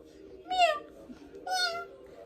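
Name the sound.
child imitating a cat's meow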